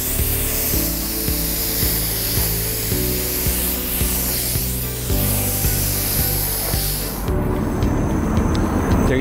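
Spray gun laying down a final clear coat with slightly raised air pressure, a steady loud hiss broken by short passes and clicks, then a brief shift in tone near the end, no talk.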